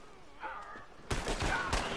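Pistol shots from a Red Dead Online duel burst in abruptly after about a second of low ambience with a faint tonal sound, then several quick loud reports follow one another.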